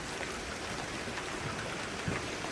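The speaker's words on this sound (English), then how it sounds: "Well, it's pouring out over here." Heavy rain pours outdoors during a storm with marble-size hail, a dense, continuous hiss of water with a few sharper impacts and no voices.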